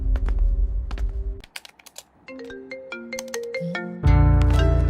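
A phone ringtone plays loud and close as a melodic sequence of electronic tones, with a brief pause partway through before a fuller, louder passage, and no voices.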